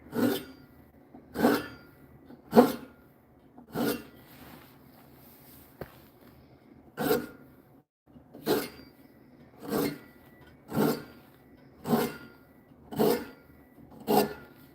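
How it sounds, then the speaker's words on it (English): A turned pear-wood sphere is hand-sanded in close, steady strokes, giving about ten evenly spaced rasping sweeps with short quiet gaps between them and no talking. "then I can sand it"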